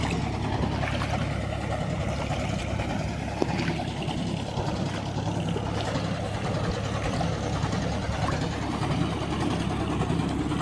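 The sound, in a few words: tractor engine pumping water at construction site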